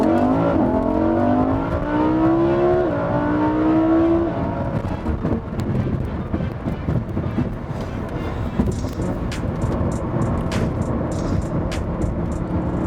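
A 2016 Lamborghini Huracan LP610-4 in Strada mode with its exhaust valves open, engine revving up in a rising whine, then rumbling and crackling at length while the car drives.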